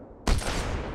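A single loud, close gunshot cracks out a quarter second in and its echo rings off, fired at a dragon in the RLCraft Minecraft modpack.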